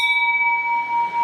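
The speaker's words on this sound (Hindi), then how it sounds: "तो मैं यहाँ पे घंटी बजा देती हूँ, तो आप लोग भी सुनिए यहाँ पे की घंटी।" A temple bell at a Mahadev shrine in the hills rings once, giving a clear sustained metallic tone with steady overtones that holds for over a second without fading much, heard alone.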